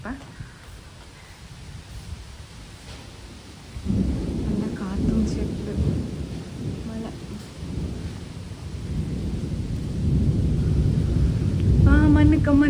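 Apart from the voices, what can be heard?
rain falling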